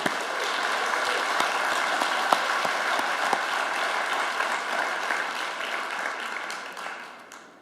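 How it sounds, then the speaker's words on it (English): Warm, sustained applause from a large audience at the IACC 2024 closing ceremony in Vilnius, thanking the conference hosts, holding steady with a few sharp claps before gradually fading out. "May we applaud them warmly."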